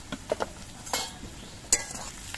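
Onions frying with salt in a pan for a Bengali muri ghonto, a few scattered stirring scrapes and light clinks over a soft, faint background sizzle, no voices.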